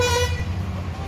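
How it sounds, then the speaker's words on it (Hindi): A Volvo bus sounds its horn in a brief, loud blare as a wedding procession gathers, with engine rumble and crowd noise continuing underneath. "देख रहे हैं वो वॉल्वो जो है हॉर्न दे रहा है"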